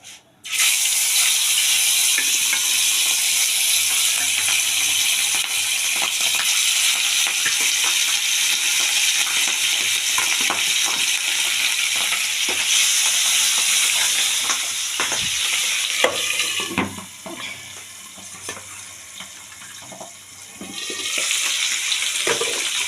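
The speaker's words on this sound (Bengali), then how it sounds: "এবার আমি মাছটা ছেড়ে দেবো তেলের মধ্যে। এক এক করে আমি সব মাছগুলো ছাড়তে থাকবো।" Stingray fish pieces fry in hot oil and are turned with a spatula, making a loud, steady, gushing sizzle. Scrapes and clatters mark the turning, and the frying softens briefly toward the end.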